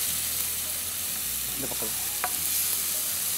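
Egg thokku being stirred and fried in a pan, with a steady broadband sizzle and scraping stir strokes throughout, loud and close, while a voice briefly speaks over it.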